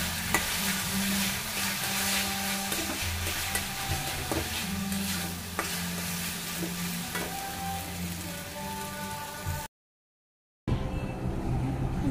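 Water spinach (kolmi shak) fries in a pan while being stirred, giving a steady close sizzle with scraping strokes throughout, briefly cutting out near the end before the sizzle resumes.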